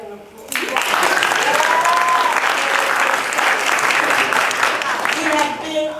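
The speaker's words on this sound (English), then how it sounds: "can that get an applause?" A crowd breaks into loud, sustained applause after a brief voice, the clapping dense and steady for several seconds before tapering.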